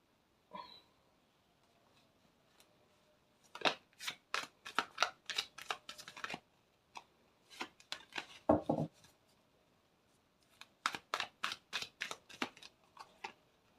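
Tarot cards are shuffled by hand in several quick rustling bursts, each a run of crisp riffling flicks, separated by short pauses and close to the microphone.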